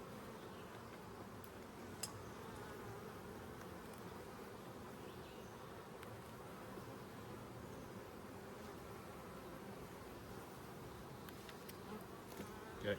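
Honey bees buzz around an open hive during a brood chamber inspection, making a continuous, even, faint drone with no talking.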